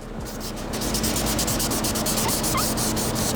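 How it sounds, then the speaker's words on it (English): Touch-up paint on a car body is wet-sanded by hand after a spritz of water, giving a continuous close gritty rubbing that runs steadily for a few seconds without a break. "I'm just gonna do a spritz of water, knock down my edges, and then polish it out"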